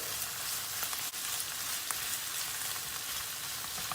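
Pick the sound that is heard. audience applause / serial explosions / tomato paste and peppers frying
tomato paste and peppers frying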